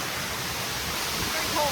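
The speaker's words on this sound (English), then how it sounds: "We're here at an all-natural waterfall." A natural waterfall pours with a steady, even hiss of falling water at moderate loudness. A faint brief tone is heard near the end.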